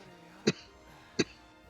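Two short, sharp coughs from one person, spaced under a second apart, close and fairly loud against a quiet background.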